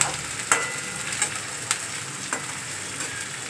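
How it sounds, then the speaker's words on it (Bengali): Onion and garlic frying in a pan for egg tadka, giving a steady close sizzle with a few sharp crackles and stirring clicks and no talk. "এবার পেঁয়াজের সঙ্গে রসুনটা একটু দিয়ে নে"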